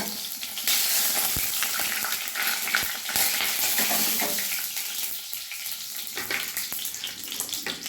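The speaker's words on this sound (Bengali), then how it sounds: "তেলটা গরম হয়ে এসেছে, এবার আমি দিয়ে দিলাম দুটো তেজপাতা, দুটো এলাচ, একটা দারচিনি।" Bay leaves, cardamom pods and a cinnamon stick sizzle in hot mustard oil for a Bengali chicken kosha, giving a close, steady crackling fry with scattered pops and no talk.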